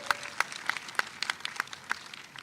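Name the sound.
audience applause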